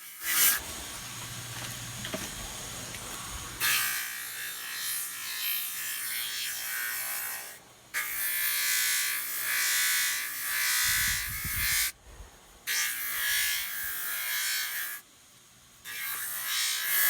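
A lapdary buffer polisher wheel spins with a steady whirring hum while being cleaned and dressed, broken by short pauses and a few grinding rub bursts as the wheel surface is worked.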